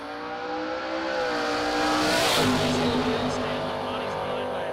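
At Xtreme Raceway Park in Ferris, Texas, drag race cars roar loudly off the line in one steady, building rush. A commentator's voice carries over the engines.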